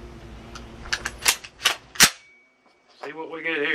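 A 5.7 round fired from a CMMG conversion: a few sharp cracks in quick succession, then a loud report near two seconds, fairly close, with a voice starting after a short gap.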